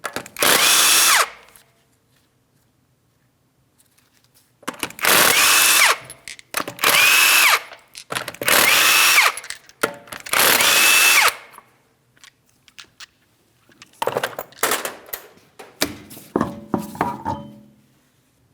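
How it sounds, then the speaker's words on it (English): A power impact tool removing the 19mm lug nuts from a Chevrolet Malibu wheel: several loud, close bursts of whirring and rattling, each lasting about a second, separated by silent pauses, with a few shorter, choppier bursts near the end. "you're going to remove all 5 of your 19mm lug nuts and then the wheel"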